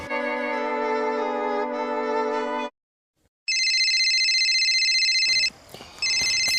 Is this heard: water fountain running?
no